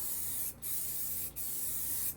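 Zinc 182 primer sprays from an aerosol can onto floor pan repairs of a BMW E30 drift car, a continuous loud hiss broken by two brief pauses.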